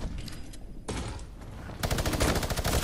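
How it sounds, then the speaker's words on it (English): Minigun firing in Fortnite, bursts of rapid gunfire that start choppy and broken, then settle into a loud sustained rattling stream in the second half. "Why does the minigun sound like the SMG from season 1?"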